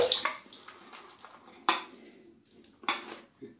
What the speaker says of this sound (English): I'm going to put a little bit more water in that